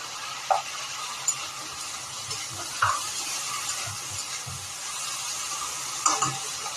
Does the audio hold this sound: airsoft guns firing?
no